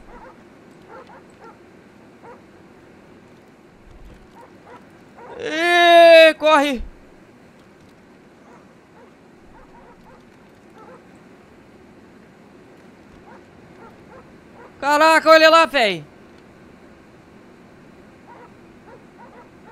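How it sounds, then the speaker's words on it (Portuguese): Fire-spitting dogs in the video game GTA 5 give two short bursts of barking and yelping, spaced apart over faint game background, with someone talking excitedly. "O cachorro cuspindo fogo!"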